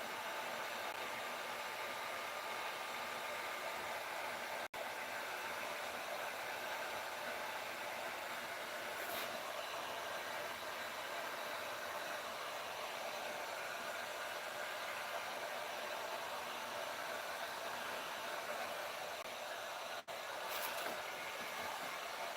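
A heat gun warms a vinyl seat cover on a 1974 Ford F-100 seat, giving a constant close whooshing blower hiss that holds steady and unbroken for the whole stretch.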